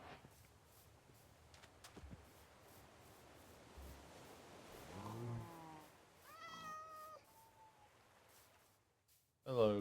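In Minecraft, a cat meows softly a few times in a village amid a low hiss of background noise, the calls rising and falling, with a brief louder burst at the end.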